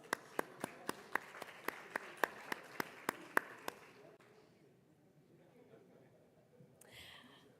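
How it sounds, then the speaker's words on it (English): A dozen evenly spaced, sharp claps from a small group at an education conference in Dubai, fading out into quiet room noise, followed by a brief rustle near the end. "Let's give them another round of applause"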